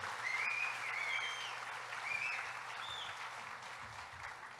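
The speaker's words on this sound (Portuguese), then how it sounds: "vamos dar uma salva de palmas a Jesus pela vida do David e da Lena" A church congregation applauds in celebration of David and Lena, a soft, steady patter of clapping heard from a distance, with faint voices and a low hum underneath.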